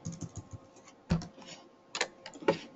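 Computer keyboard keys typed in short, uneven bursts of several close clicks with pauses between them, heard alone at moderate level.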